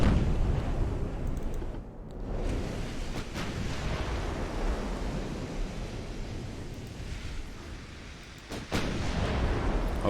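Warship guns fire shells in a naval cruiser battle in Ultimate Admiral: Dreadnoughts. A dense, roaring barrage rumbles continuously, and sharper booms break through near the start and close to the end.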